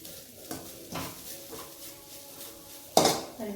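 Grated coconut is stirred while heating in a pan, with a spoon scraping and clinking against the metal in a few separate strokes, the last one louder, over a faint sizzle.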